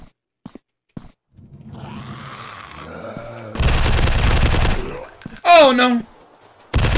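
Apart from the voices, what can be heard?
gunfire in the video game Zombieland Fukuoka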